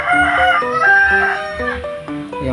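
A purebred Rhode Island rooster crows once nearby, a loud drawn-out call with rising and falling notes, heard on its own.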